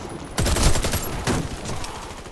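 Warface gunfire on Nintendo Switch: a sudden burst of rapid shots that starts abruptly, followed by a second cluster a moment later, loud and close, with trailing echo.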